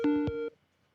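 A single telephone busy-signal tone sounds for half a second when a call fails to connect, then cuts off to near silence. The tone is clear and steady.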